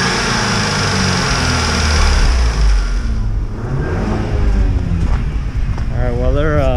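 A VW Golf Mk6 fitted with a new air intake and short shifter revs loudly up close, its pitch rising and falling over a few seconds, and a voice talks over the engine in the later part.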